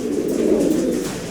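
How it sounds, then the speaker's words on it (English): Fancy pigeons coo at a Florida bird market, a close, loud, continuous throaty coo filling the short moment with no voices over it. "Wow, look at that bird."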